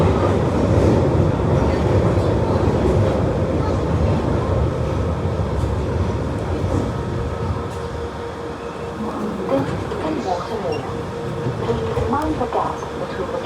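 A London Underground 1938 stock train runs with a loud, steady rumble and rattling of carriages that eases slightly later, with faint clicks of the track and a voice speaking over it.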